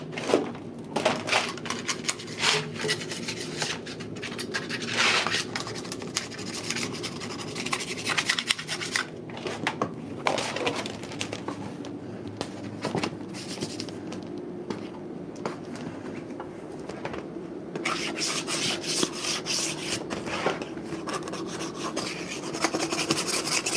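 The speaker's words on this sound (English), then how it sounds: "Scrape this guy off, and we are good to go." Dried glue being scraped off a handmade wooden skateboard deck: repeated rasping, scratchy strokes in an uneven rhythm, close and moderately loud, with brief pauses between bursts of scraping and no voices.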